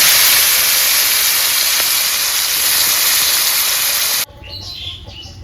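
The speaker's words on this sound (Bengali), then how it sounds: "এখন সরিষার তেল দিয়ে শুকনো মাছটাকে ভেজে নেব" Small dried fish (shutki) frying in hot mustard oil, a loud steady hiss and sizzle filling the pan that cuts off abruptly near the end, leaving faint background noise.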